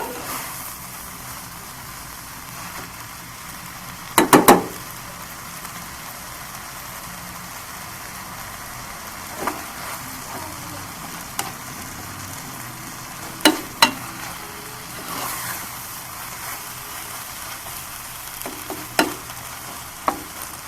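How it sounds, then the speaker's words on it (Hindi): Chicken coated in masala fries in a pan over a medium flame, a soft steady sizzle throughout with a few sharp clinks of a spoon stirring against the pan. "इसलिए हमने मीडियम फ्लेम पे ही इसे फ्राई करना है।"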